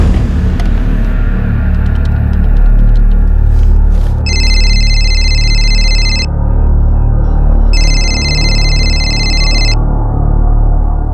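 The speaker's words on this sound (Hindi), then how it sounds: "बिहार से फोन है, लैंडलाइन से। तब तो उठा ही लो" A telephone rings twice in long electronic bursts with a pause between, over a loud, constant low rumble.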